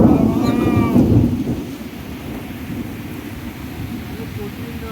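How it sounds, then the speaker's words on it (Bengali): Heavy rain and gusting wind under a bridge in Baharampur make a dense, steady roar, with a deep rumble and a tonal, moan-like sound at the start before the wash settles evenly. "বৃষ্টি হচ্ছে বহরমপুরে।"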